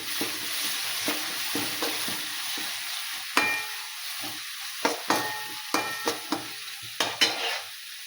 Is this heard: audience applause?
no